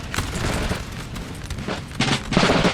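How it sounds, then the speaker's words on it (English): Dense, crackling musket volleys from massed infantry in a Peninsular ambush battle in Napoleon Total War, an overlapping fusillade that swells into heavier bursts toward the end. "it's all guns blazing now"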